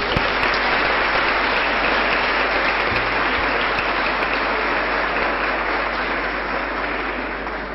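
Broad audience applause at a women's event reception in Damascus, a dense unbroken roar of many hands clapping that holds steady and eases off slightly toward the end, without speech.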